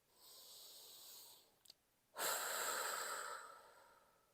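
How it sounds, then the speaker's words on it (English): Slow, easy breaths drawn in through the nose during a calm guided breathing exercise, close and soft: one long airy inhale, a brief sniff, then a second fuller inhale that tapers off. "we're going to take 3 easy breaths in through the nose"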